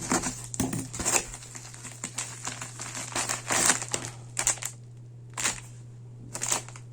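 Plastic mailer packaging from a Ukrposhta parcel crinkles and rustles in close, irregular bursts as it is torn open and handled, with short pauses of quiet between handfuls.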